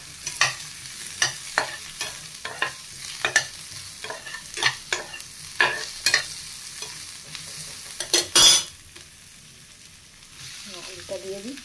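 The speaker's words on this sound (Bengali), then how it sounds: "পেঁয়াজটাকে ভাজছি তেলের মধ্যে, সাদা তেল দিয়েছি।" Onion frying in white cooking oil, with potato going in, is stirred in regular scraping strokes over a soft, continuous sizzle, with one louder clatter near the end.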